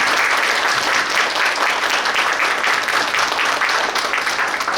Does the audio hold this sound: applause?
yes